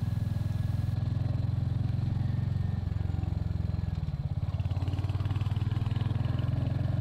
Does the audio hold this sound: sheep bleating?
no